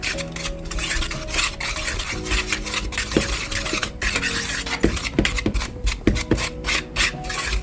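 Dry flour and salt for dumplings are mixed in a bowl, a close, gritty scraping and rasping of a utensil against the bowl in uneven strokes, with occasional sharper clinks and no voices.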